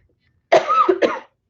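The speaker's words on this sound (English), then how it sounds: "I just kind of perpetually have a cough now" A single close cough, a rough double burst lasting under a second, alone in silence.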